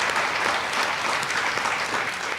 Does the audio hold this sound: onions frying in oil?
no